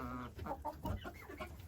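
Bantam chickens cluck in a coop at dusk, a cluster of soft, close, irregular clucks and murmurs filling the short stretch with a low farmyard rumble beneath.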